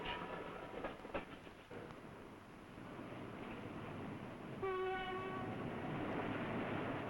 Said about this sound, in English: The throb of the diesels breaks the silence and then echoes across the rivers